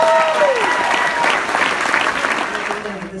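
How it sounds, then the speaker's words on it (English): Audience applause greets a teacher being introduced at a celebration, a dense, steady wash of many hands clapping that fills the whole moment and tapers slightly toward the end. "Give her a round of applause"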